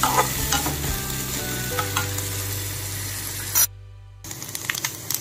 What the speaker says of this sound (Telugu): ఇవి కొంచెం బ్రౌన్ కలర్ వచ్చేదాకా వేయించుకోవాలి.